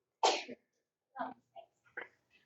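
A single loud sneeze bursts out in a classroom, followed by brief soft voices and faint sounds in a quiet room.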